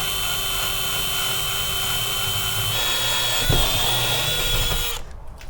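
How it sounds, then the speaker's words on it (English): A power drill bores holes into the body of a van for a 12V air conditioner mount, a steady close whine running under a loud mechanical hum that swells briefly near the end before cutting off. "if I drill these holes here"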